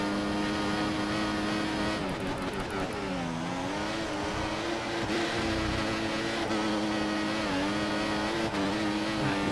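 Flat, droning Formula 1 engine note from the F1 2014 racing game in wet qualifying at Australia, holding a steady loud whine with shifting pitch and brief revving changes throughout.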